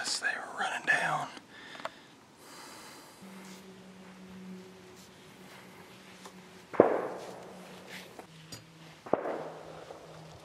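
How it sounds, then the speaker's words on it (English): Distant shotgun shots from pheasant hunters ring out across a Kansas field, two sharp reports several seconds apart with faint rolling echoes, heard beneath quiet whispering nearby. "Must be pheasant hunting or something. Sounds like shotgun."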